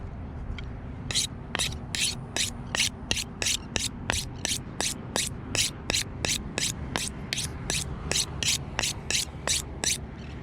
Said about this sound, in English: my rusted knife sharpener